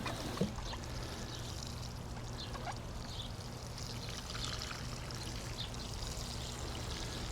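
Water pours steadily from a big pot onto plants in a sun-baked garden, a continuous close splashing and trickling wash with no talk.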